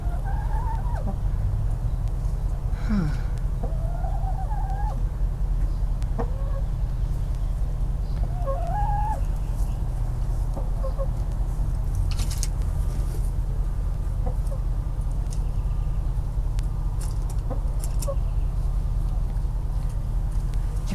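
Backyard chickens cluck in short, scattered calls over a steady low outdoor hum, with a brief voice heard once.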